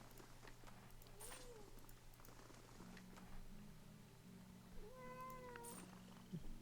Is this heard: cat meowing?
yes